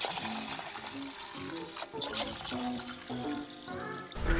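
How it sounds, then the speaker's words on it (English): Water pours steadily while a fish tank is filled for minnows, a continuous splashing rush with gurgling bursts, close and fairly loud, with no one talking over it. "now we can go ahead and go back to filling up the fish tank"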